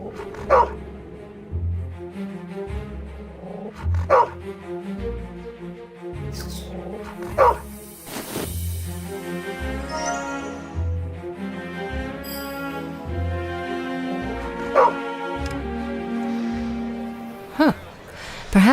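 A dog in the video game Dark City: Amsterdam barks and whimpers in short repeated yelps over a looping musical soundtrack, with sharp accents every few seconds.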